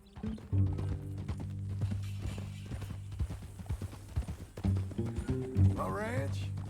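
Hooves clip-clop in a steady rhythm beneath talking voices in the video game Red Dead Redemption 2, joined by a low droning tone and a horse whinny near the end.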